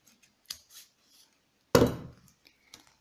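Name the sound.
scissors cutting thread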